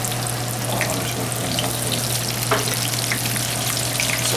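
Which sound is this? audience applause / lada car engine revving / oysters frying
oysters frying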